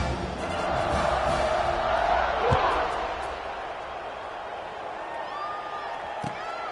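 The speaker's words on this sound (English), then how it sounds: "this crowd now ready to get behind them" Stadium crowd noise in an American football video game, a broad steady roar swelling ahead of a kickoff with a commentator talking over it.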